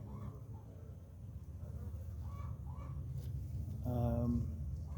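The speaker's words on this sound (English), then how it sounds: "got a fair population of bees" Honey bees in an open beehive, a low continuous buzzing hum of many bees, moderately faint, with brief tonal sounds from other sources layered over it.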